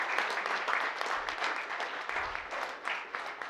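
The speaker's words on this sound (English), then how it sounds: "Once again, a big round of applause for the mentors." Audience applause at a data tournament finals event, a dense, steady patter of many hands clapping throughout, moderately distant and fairly quiet.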